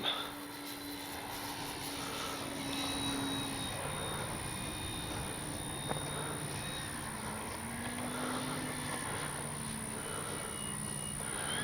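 An FGFRC Flightline F4U Corsair RC warbird model plane flies with a faint, steady motor drone and thin high whine, distant and continuous with slight swells as it passes.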